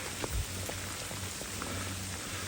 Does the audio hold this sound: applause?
no